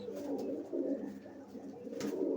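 Pet pigeons kept by hobbyists coo in soft, repeated low rolling phrases, fairly close and alone without talk.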